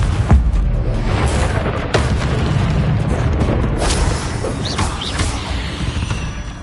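Spell blasts from Hogwarts Legacy, including fiery Confringo and Incendio casts, rumble as a dense run of booming explosions and thuds with no gaps, loud and close, with sharp bursts crackling over a heavy low roar.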